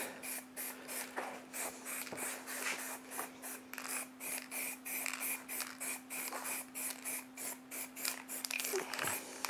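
An aerosol spray-paint can hisses in repeated short bursts while coating shutters, in a quick rhythmic on-off pattern over a faint steady hum, close by with no speech.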